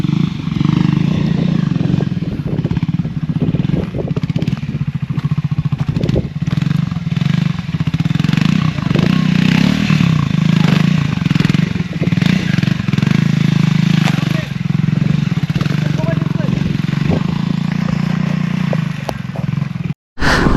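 A scrambler motorcycle engine, restarted after a fall on rough off-road terrain, runs loud and close with a steady idle and irregular throttle blips throughout, then cuts off abruptly at the end.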